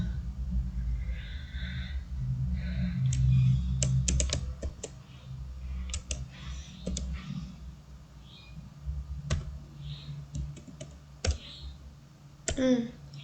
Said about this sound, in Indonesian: kita akan mengetik saja ya.